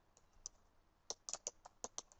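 A quick, faint burst of keystrokes on a computer keyboard, a dozen or so sharp clicks in an uneven rhythm, heard alone in a quiet room.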